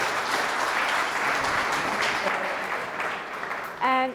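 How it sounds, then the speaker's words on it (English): A crowd at a live pitch event applauds with dense, sustained clapping that fades slightly before a voice cuts in at the very end. "thank you very much for the questions, and a round of applause for Paul"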